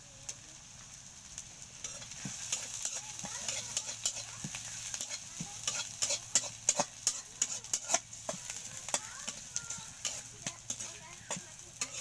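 Something stirred and frying in a pan over a clay stove, with okra still to be added: a steady bright sizzle runs throughout, broken by frequent sharp scraping clicks from the spoon.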